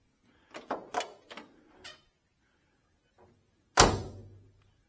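Four quick light clicks and clacks of door latch handling on a 1970 Chevelle Malibu, a brief pause, then one firm close-up car door slam with a short booming tail.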